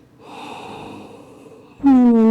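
Slow deep breath during a yoga child's pose, a long soft close inhale of airy breathing, followed by a louder, tonal breathy exhale or sigh at the end.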